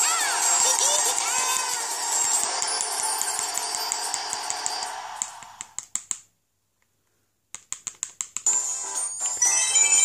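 Crowd applause and cheering at the award ceremony in Mario Kart 7, a dense clapping wash with game music tones that thins into scattered claps, drops to silence, then returns.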